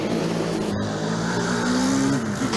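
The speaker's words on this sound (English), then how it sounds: "As the car passed our position, I couldn't hear him shift." A Formula Student race car drives past on the track, a loud sustained engine drone whose pitch slides and dips as it goes by, filling the whole stretch without pause.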